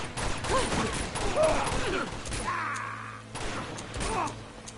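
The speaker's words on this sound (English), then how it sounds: "Somebody's shooting me somewhere." Gunfire in the Uncharted 2 video game, mixed shots and mechanical clatter in bursts over a few seconds, busy and fairly loud with a humming background.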